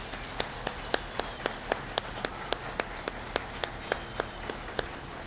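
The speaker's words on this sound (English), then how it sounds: "Please give a big round of applause to all of our award nominees." Scattered applause for teacher award nominees at a board of education meeting, heard as sharp individual claps in a loose steady rhythm over a hissy, rain-like background, moderately distant.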